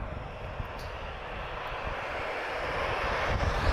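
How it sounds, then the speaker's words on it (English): An Embraer 195 jet airliner at Lisbon Airport, a distant broad engine roar that swells steadily louder over a few seconds, heard alone. "TP1038, another Embraer, so this is an Embraer 195 advanced range"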